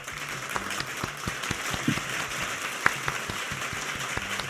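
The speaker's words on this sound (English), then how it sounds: "They are cheering you on." Studio audience clapping at a live Christian talk show taping, a steady patter of applause with scattered sharper claps, moderately quiet and continuous, with no talk over it.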